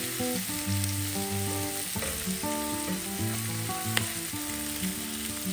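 Finely chopped onions fry with garlic in a pan for shrimp fried rice, a dense, even sizzle running throughout with a couple of faint stirring taps, and no speech.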